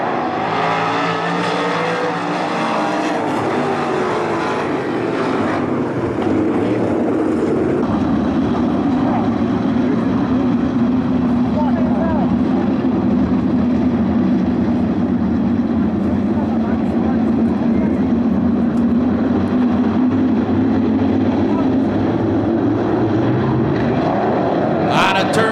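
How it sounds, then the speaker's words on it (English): 305 winged sprint cars in a heat race on the dirt oval at Attica Raceway Park, a loud continuous roar of engines passing and droning around the track, with race commentary over it. "here comes Logan Reel to his outside in that 9 car. They go wing to wing down the back stretch"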